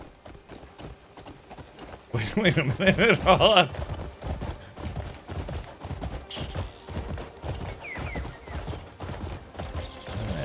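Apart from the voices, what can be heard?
horse hooves in video game Crimson Desert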